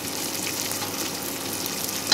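Steady close sizzling of ingredients being fried in a pan until brown while making kheer, a continuous hiss with faint stirring and no talk.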